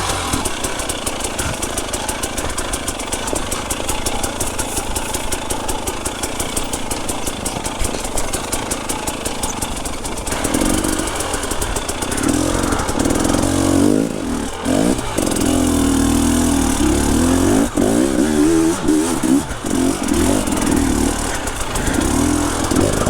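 A KTM enduro motorcycle engine runs continuously on hard enduro terrain, idling then revving with a rough, loud mid-pitched drone that swells and surges in the second half.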